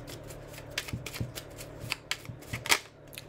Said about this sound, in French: je vais tirer une petite carte ou deux petites cartes